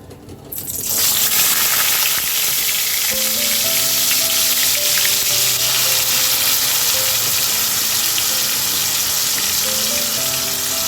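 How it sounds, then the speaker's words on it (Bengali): Onion hits hot oil in a pan for palak paneer and erupts into a loud, continuous sizzle that holds steady for about ten seconds, with a faint tonal hum beneath and no speech. "পেঁয়াজটা লালচে হওয়া পর্যন্ত ভাজবো।"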